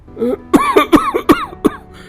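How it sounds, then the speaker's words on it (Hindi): Several sharp, harsh coughs in a quick irregular series, close and loud, with a rough throaty rasp between bursts. "अरे इस खांसी ने तो नाक में दम कर दिया भाई।"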